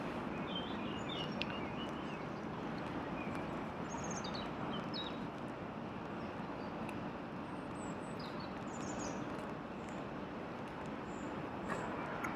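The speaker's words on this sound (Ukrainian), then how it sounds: "Ви можете чути спів пташок, які співають" Birds chirp and call intermittently from a distance over a steady low background hum at a lookout above the port in Ancona, Italy; the calls are faint and scattered, with no talk.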